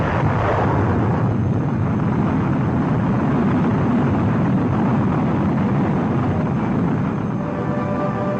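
The 1958 rocket launch carrying the Explorer satellite, heard as a loud, steady, broad roar that fills the whole stretch and fades only slightly at the end.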